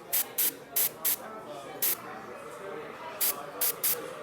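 An airbrush sprays basecoat paint in short hissing bursts, several quick blasts with brief pauses between them, close by, over a faint background murmur.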